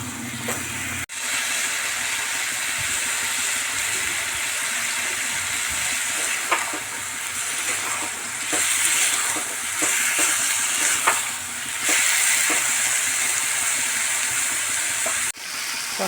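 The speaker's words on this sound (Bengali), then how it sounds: "ভালো করে মশলার সাথে মিশিয়ে নিয়ে 5 মিনিট মতন আমি কষিয়ে নেব" Cabbage with carrots and peas sautéing in a pan with spices, a steady sizzling frying hiss throughout with occasional stirring scrapes, close and fairly loud, no voices.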